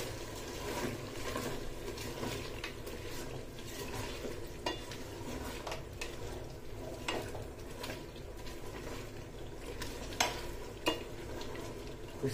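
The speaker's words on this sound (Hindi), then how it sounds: "वो गार्लिक ऐड करेंगे। इसको मिक्स करेंगे थोड़ा सा" Chopped garlic stirred in a hot oiled pan for mutton biryani, a steady soft sizzle with scraping spoon strokes and a few sharp metallic taps near the end.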